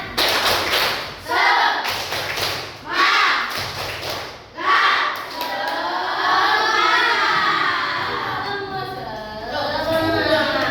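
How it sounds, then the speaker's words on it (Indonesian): A classroom of pupils performs a rhythmic spirit clap in loud bursts of group clapping and thumping, several rounds separated by short pauses, followed by a continuous stretch of shouting and crowd noise. "Kita tepuk semangat yang benar-benar semangat gitu ya"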